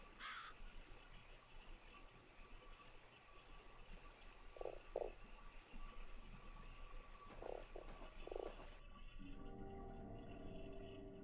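Frog croaks in the video game Fran Bow, a few short low croaks spaced out over a quiet steady game ambience, with no talking.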